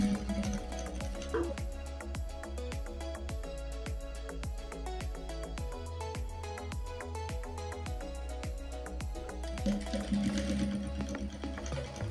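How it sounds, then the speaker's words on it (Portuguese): Sewing machine stitching a fabric seam near the edge of a boho-style bag, a fast, steady mechanical rattle of needle strokes running continuously and close up. "passe essa costurinha aqui, ó, bem na pontinha, para que o viés faça só o acabamento depois"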